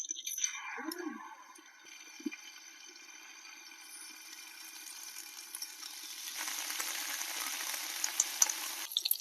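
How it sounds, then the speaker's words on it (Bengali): Fish paturi wrapped in gourd leaves is laid on a tawa in hot mustard oil, giving a faint crackle at first that builds to a steadier, brighter sizzle near the end, close by and without talk. "এবারে পাতুরিগুলো এক এক করে তাওয়াতে দিয়ে দেব।"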